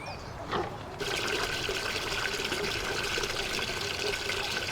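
Water is poured for rescued animals by animal-welfare volunteers, a close steady trickling stream that starts abruptly and runs on evenly, with faint background sounds.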